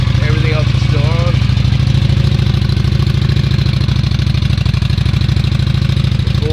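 A 2015 Honda Shadow Phantom motorcycle on its stock exhaust idles up close with a steady, throbbing low rumble, while a person speaks briefly over it near the start.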